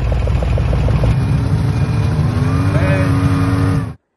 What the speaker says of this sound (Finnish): Tässä aurataan nyt tällä hetkellä tämmöstä ajorataa sitten videolle.